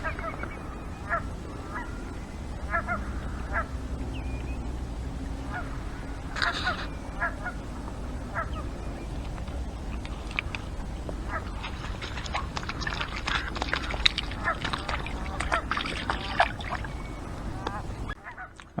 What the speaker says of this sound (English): the geese. They've all got their heads up now and they're making the alarm calls.